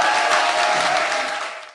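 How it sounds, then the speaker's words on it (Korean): Audience clapping at a Korean political talk event, a dense continuous patter of many hands that holds steady, then tapers off toward the end. "박수 부탁드립니다."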